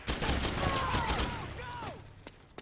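Suppressing gunfire in a video game battle, a dense rattle of shots with whistling, sweeping tones over it. Combat voices shout through the noise.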